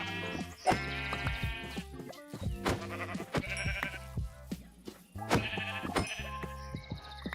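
Sheep bleating inside a modded Minecraft world, a run of short wavering game bleats coming in repeated bursts that overlap one another at close, fairly steady loudness, with no talking.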